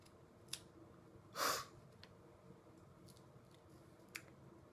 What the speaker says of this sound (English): I need scissors for this little part down here